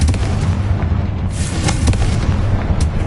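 Confringo fire spell blasts in Hogwarts Legacy, loud crackling bursts and sharp pops over a dense rumbling combat bed, with several distinct cracks toward the end.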